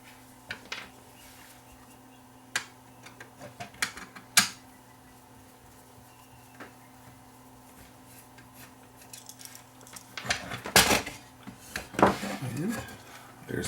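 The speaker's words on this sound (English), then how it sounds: "Remove those two screws, and remove the screws in the back here." Screws come out of the base of an ELEKIT TU8100 Class A tube amplifier: scattered small metallic clicks and taps from a screwdriver, sparse at first, then busier near the end, over a low steady hum with a voice faintly in the background.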